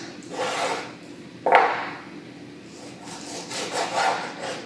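A sharp knife works meat off the bone for chili colorado, producing close, quiet scraping and sawing strokes in bursts with one sharp tap partway through, and no one talking.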